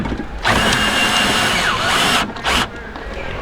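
A cheap cordless drill bought secondhand whirs steadily as it cranks a travel trailer's leveling jack, the motor pausing briefly and then spinning up again in a short close burst.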